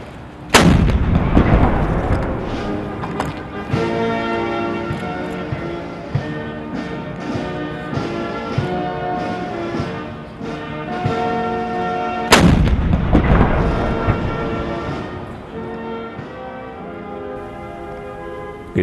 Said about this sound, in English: When the powerful vibration of the cannon tells its own story of